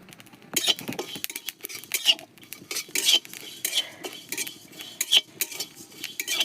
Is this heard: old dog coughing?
no